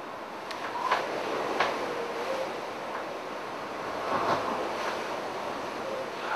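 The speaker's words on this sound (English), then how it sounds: "You can hear the wind just..." Hurricane-force wind from Hurricane Gonzalo lashes a house in Bermuda at night, a steady roaring rush with surging gusts that swell and fade, loud and continuous, with no talking.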